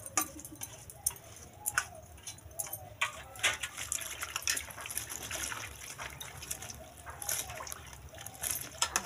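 Pointed gourd (patal) is washed in water, with faint splashing, trickling and gushing coming in irregular bursts alongside light clinks, close by and quiet.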